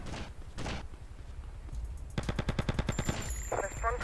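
Rapid gunfire in GTA III or Vice City: a burst of loud, closely spaced shots rings out, preceded by a few heavier single bangs and followed by scattered game effects.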